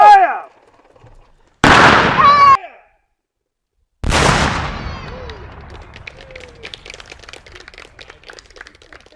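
Shouted commands ring out, then a single sharp, loud gunshot-like blast cracks and rolls away into a long, fading rumble with scattered crackling.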